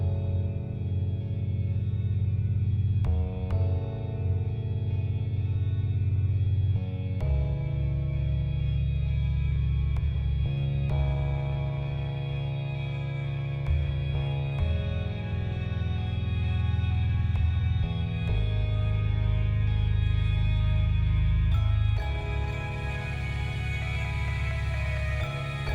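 An instrumental music track in the style of the Minecraft End soundtrack, with a deep sustained bass and soft airy synth layers shifting through slow chord changes, steady and calm with no voices.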